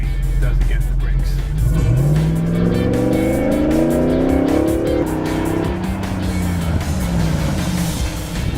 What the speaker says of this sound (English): let's see how this Hemi does against the brakes